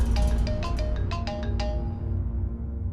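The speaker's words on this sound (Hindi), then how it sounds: "आप फोन क्यों नहीं उठा रहे?" A phone rings with a repeated electronic tone pattern in quick pulses over a low background hum, then the ringing fades out, no talking.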